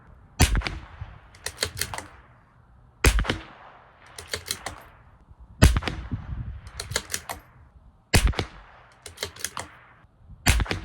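A CZ 457 rifle firing Eley Team ammunition at a 200-yard range cracks out five sharp, loud shots spaced a few seconds apart, each followed by faint clicking from the bolt being worked between shots.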